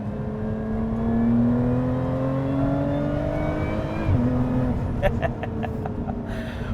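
A supercharged V6 in a Lotus Emira with an automatic gearbox revs through a long rising engine note, then drops sharply. A few crisp pops and crackles follow near the end, heard up close.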